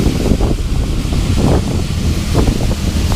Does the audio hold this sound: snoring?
no